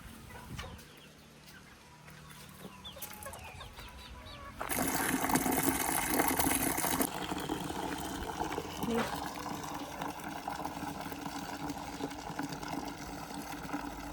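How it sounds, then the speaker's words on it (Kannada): Water filling a container: a steady rushing flow starts partway through and continues loudly, with chickens clucking nearby and faint sounds around it. "ನೀರು ತುಂಬ್ತಾ ಇದೆ."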